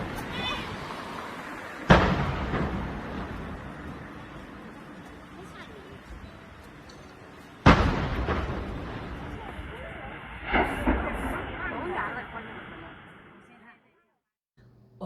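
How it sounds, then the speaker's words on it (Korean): A gas explosion in North Korea, played back from a recording: two sudden heavy booms a few seconds apart, each followed by long, rumbling, decaying noise before it falls quiet. "그 정도로 폭발이 셌다는 겁니다"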